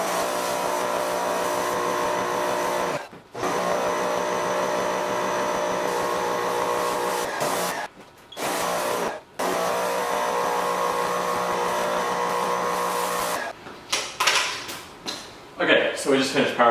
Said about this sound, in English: so we just finished power washing it.